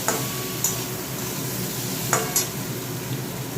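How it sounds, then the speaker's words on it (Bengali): Dry red chili powder frying in a pan with cumin powder gives a steady sizzle, crossed by a few sharp clinks of a spoon stirring against the metal. "শুকনো লঙ্কার গুঁড়ো দিলাম এক চামচ আর কিছু কেটে দিতে লাগবে না ভালো করে কষবো"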